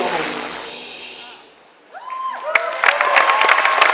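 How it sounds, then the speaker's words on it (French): A crowd applauds a cosplay contestant at Comic-Con Paris. A dense burst of clapping fades out, then voices and scattered claps return over a lively hall. "On l'applaudit, Comic-Con Paris"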